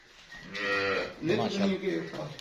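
A Jersey Friesian cross cow moos twice in a row, loud and close, with drawn-out lowing calls on a farm with no talking.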